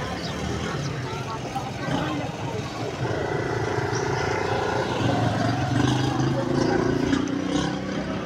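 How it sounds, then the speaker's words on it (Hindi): A steady roar of motorbikes passing outside a garden, engines droning and rising as they go by, continuous throughout with faint voices mixed in. "बाइक्स वगैरह जाती जाती है ना यहाँ पर इसलिए"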